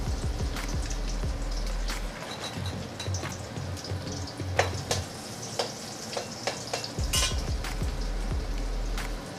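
Finely chopped garlic frying in leftover chapati oil, a soft continuous sizzle with scattered crackles and pops, close and fairly quiet, with occasional stirring scrapes and a low hum present at times.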